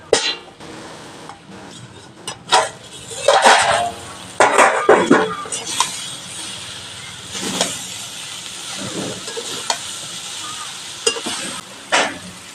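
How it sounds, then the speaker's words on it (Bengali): A cooking pot's lid is lifted during a home-cooked dal with prawns, with metallic clinks and scraping of pot and utensils over a steady sizzle, loud and close in irregular bursts. "ঢাকা খুলে দেখে নেব।"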